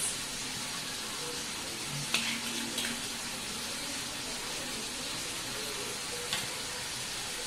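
Veg chowmein noodles stir-fry in a pan with dark soy sauce and tomato sauce, giving a soft, continuous sizzle with a couple of light scraping clinks.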